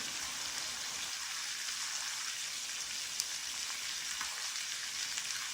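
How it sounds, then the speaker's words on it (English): Steaks frying in a skillet at about 400 degrees, a steady, close, crackling sizzle with occasional pops, heard alone with no talk. "Now I have my steaks, they're cooking at about 400"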